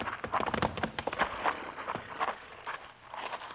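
Horse hooves clop in an uneven run of hollow, close beats in a Western radio drama sound effect, fading into quieter scattered steps.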